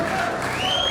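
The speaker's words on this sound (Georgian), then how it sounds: "გამოსულა აპლოდისმენტები!" Audience applause at a Georgian grappling super-match event, a brief burst of dense clapping and crowd noise with a sustained whistle-like tone running through it.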